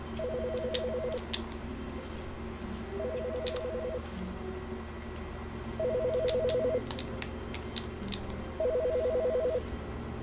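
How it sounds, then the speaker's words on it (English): Telephone ringing in The Stanley Parable, four electronic double-tone ring bursts spaced evenly with pauses between, steady and clear over a soft background hum with a few faint clicks. "Someone's phone going off?"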